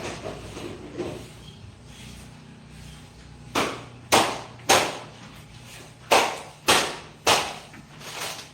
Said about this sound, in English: I have to take a hammer to loosen this shit up